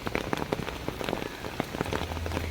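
Monsoon rain falling at the Thiruvananthapuram zoo: steady close patter of drops striking surfaces, with irregular sharper taps over a soft wash, and no talking.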